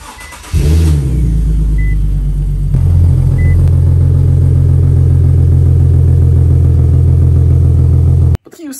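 A car's exhaust rumbles at a steady low idle through electronic exhaust cutouts. It starts suddenly, holds a deep, even drone for several seconds, then cuts off abruptly.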